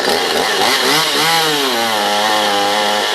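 A Stihl MS 192 TC chainsaw being tuned after a spark plug replacement and carburetor adjustment revs up loud and close. Its engine pitch climbs sharply, then settles into a steady high whine with a slight bog.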